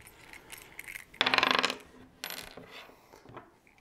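A metal nut being worked off a carriage bolt on a motorcycle LED auxiliary light bracket, heard as near, faint metallic clinks and a brief jangling burst of loose hardware, with no talk.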